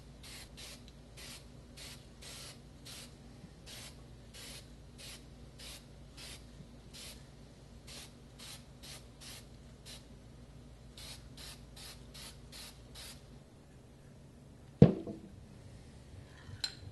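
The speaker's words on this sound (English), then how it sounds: "Every couple minutes after spraying, you gotta shake it up." Short hissing bursts of a spray can come in a quick, irregular rhythm, fairly quiet and close, followed by a brief clunk near the end.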